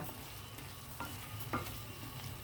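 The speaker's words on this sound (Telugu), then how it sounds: "ఇప్పుడు ఇదంతా ఒకసారి కలిపి మరలా మూత పెట్టి వన్ మినిట్ మగ్గనివ్వాలండి" Drumstick and onion masala curry stirred in a pan, with a few soft scraping strokes over a low, steady sizzle; no one speaks.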